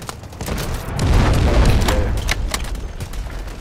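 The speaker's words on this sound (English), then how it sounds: "Artillery ready for barrage. For barrage ready! Dude, it's legit barraging." An artillery barrage pounds in the shooter game Delta Force: a dense run of heavy booms and rapid gunfire cracks swelling to a loud rumbling peak, then continuing with scattered sharp shots.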